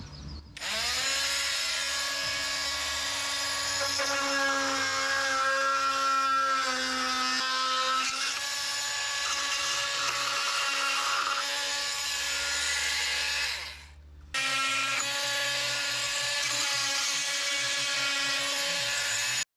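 A power tool trims wooden shims on a DIY cabin build, a loud, steady, high-pitched whirring cut that runs for about thirteen seconds, stops briefly, then starts up again.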